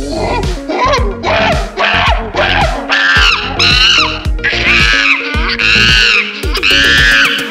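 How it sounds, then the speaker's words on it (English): Monkey calls for a children's alphabet lesson, a rapid series of loud, shrill chattering screeches and hoots that grow higher and more intense toward the end. "And the sound of the monkey is"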